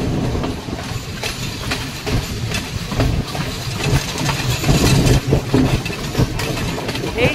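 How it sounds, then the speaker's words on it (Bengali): Passenger train travelling through the Sri Lankan hills toward Ella, a loud continuous rolling rumble with irregular clanks and rattles of the carriages, a low engine drone underneath, heard from inside without talk. "এখন ট্রেন চলেছে এলার দিকে"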